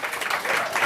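Brief burst of dense audience applause at a climate action summit in London, a steady wash of many hands clapping at once, heard for under a second.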